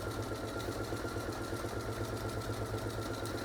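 A sewing machine runs steadily while top-stitching a seam on a small fabric pin cushion, giving a continuous close, even mechanical whir with a fast rhythmic needle chatter and no pauses.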